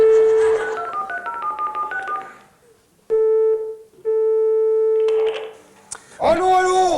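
A short run of telephone keypad tones, evenly stepped beeps, followed by steady ringback tones with brief pauses, then a voice answering.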